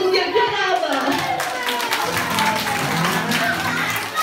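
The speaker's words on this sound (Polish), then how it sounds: "Dajcie mu wielkie brawa!" An audience at a children's music show claps for a volunteer on stage, giving a brisk burst of applause with voices and children's chatter mixed in.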